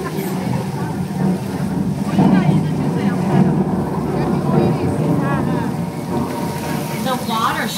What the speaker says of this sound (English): there is the rain. And we create that with overhead sprinkler systems.